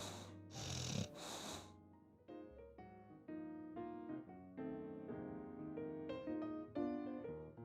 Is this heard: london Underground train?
no